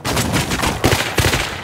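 Gunfire from a shotgun in the survival game Rust: a quick string of sharp, loud blasts with uneven gaps and a few clustered heavier reports, and no talking over them.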